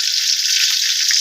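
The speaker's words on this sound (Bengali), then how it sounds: "এই যে এর মধ্যে ফং করে চিংড়ি মাছ দেওয়া হয়েছে" Shrimp hitting a hot pan for late-night noodles, a steady bright frying sizzle, close and loud throughout.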